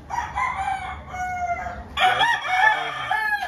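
Fighting roosters, older gamecock birds of Roundhead and McLean Hatch lines on a ranch, crowing in two long overlapping calls, loud and near, the second crow bursting in fuller and harsher than the first, with no talk.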